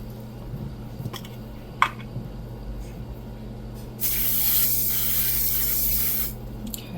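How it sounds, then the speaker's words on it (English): A steady aerosol of butter cooking spray hisses onto foil for about two seconds, close and fairly loud, preceded by faint handling noises and a brief soft click. "we're going to spray it with some butter spray so it doesn't stick"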